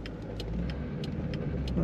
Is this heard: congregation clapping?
no